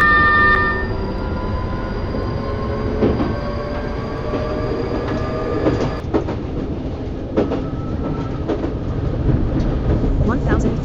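Simulated train in the TWS railway game accelerating to 45 mph under automatic train operation, a steady loud rolling rumble with rising whine tones, rail clicks and occasional clunks throughout.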